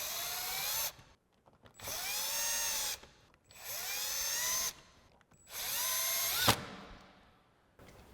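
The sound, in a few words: power tool with 7mm socket removing bumper bolts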